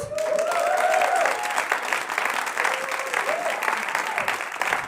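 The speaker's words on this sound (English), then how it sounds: "Let's keep it coming for Ano!" Applause from a comedy show audience fills the whole stretch, loud and steady, with a host's voice rising over the clapping at the start.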